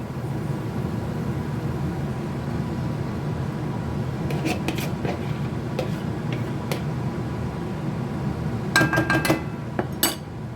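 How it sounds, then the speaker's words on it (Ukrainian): Minced meat tipped into a hot pan over translucent softened onion for a savoury pancake filling, a steady close sizzle running throughout, with scattered metallic clinks and scrapes of a stirring utensil growing busier toward the end. "І так цибуля стала прозорою висипаю фарш."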